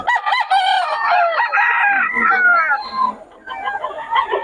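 A Sweater Hennie bloodline gamecock rooster crows loudly and close by in a long, strained call with a wavering harmonic tone, followed by softer, rougher calls over the last second or so.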